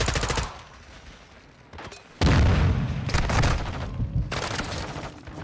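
Gunfire and a heavy boom burst out during a Call of Duty MW II match, with loud sustained blasts rolling over several seconds after a quieter lead-in.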